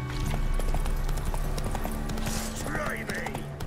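Roach, a horse in The Witcher 3 video game, clip-clops its hooves in a steady rhythm. The hoofbeats run under game music and effects, and a brief whinny-like call rises near the end.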